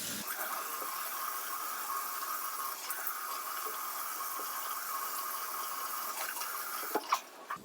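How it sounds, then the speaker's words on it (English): Lukewarm water runs and splashes as a face is rinsed, a steady close wash of running water with soft drips and a few louder splashes near the end, with no voices. "I'm going to get my lukewarm water again and I'm just going to rinse my face"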